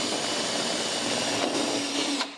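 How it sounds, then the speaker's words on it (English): A power drill pre-drills a hole for a vertical blind bracket, a loud, steady whirring run that cuts off at the end, with no talking. "we pre-drill."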